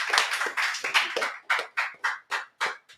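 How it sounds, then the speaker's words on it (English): A small group claps during a podcast recording, a sparse burst of hand claps that thins into about a dozen separate, evenly spaced claps close by, each sharp and distinct. "So I just want to give another applause."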